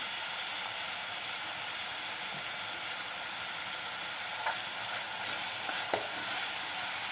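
Onions sautéing in a pan for chicken curry give off a steady, even sizzle, with a couple of faint scrapes of a spoon in the second half. No one speaks.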